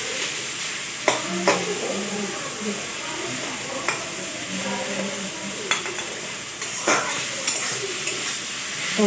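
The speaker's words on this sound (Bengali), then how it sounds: "গোলমরিচ গুঁড়ো দিয়ে একটু নাড়িয়ে নিচ্ছি।" Vegetarian Maggi noodles dusted with ground black pepper are stirred in a pan, giving a soft continuous sizzle broken by several sharp scrapes and clinks of the utensil against the pan, close by with no talk.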